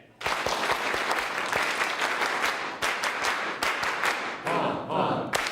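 An audience claps loudly and continuously, the dense applause swelling and dipping slightly before tapering near the end.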